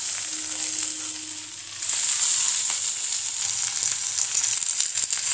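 Okra sizzles steadily in hot oil in a pan while being stirred, a continuous bright frying hiss that swells slightly after a brief dip, with no talking.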